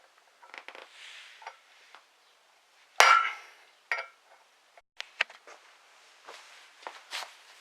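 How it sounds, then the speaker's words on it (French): A new wheel bearing being hammered into place with a socket, giving sharp metallic impacts at irregular intervals, one strong hit standing out among lighter taps, close and with no one talking. "vous allez prendre un autre outil et vous allez taper que d'un côté et donc l'enfoncer progressivement"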